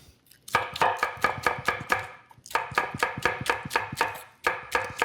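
A knife chops scallions on a cutting board in quick, even strokes, two bursts of about eight to ten firm taps each with a short pause between them, close and crisp with no talking.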